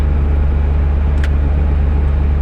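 Steady engine drone and road rumble from a GAZelle van cruising on a highway toward Rivne, constant and fairly loud, with no talk and only a brief high tick partway through.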